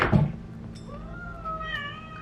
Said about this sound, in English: This cat.